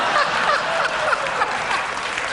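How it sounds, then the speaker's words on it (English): A television talk show studio audience applauds, with sustained dense clapping at full volume and a few faint chuckles mixed into the crowd. "It's embarrassing that you are clapping."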